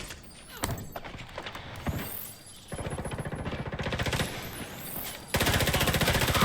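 SMG gunfire in The Division 2 video game: short rattling automatic bursts, then sustained rapid fire that grows louder near the end, mixed with mechanical game effects.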